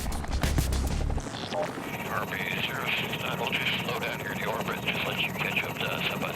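A UH-60M Black Hawk military helicopter drones steadily overhead, its rotor thumping heavily at first and then settling into a continuous mechanical roar.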